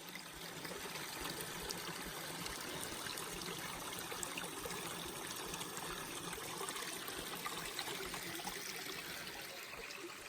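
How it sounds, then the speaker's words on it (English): A small stream trickles among rocks in mountain crags. The steady, even burble goes on without pause, with no talking. "Pretty little water source in the crags."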